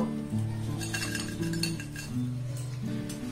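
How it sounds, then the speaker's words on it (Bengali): A metal strainer lifts raw rice grains, fried until puffed, out of hot oil, producing a series of near metallic clinks and scrapes against the pan. "এবার এটাকে আমি এইভাবে তেল থেকে ছেঁকে উঠিয়ে নেব।"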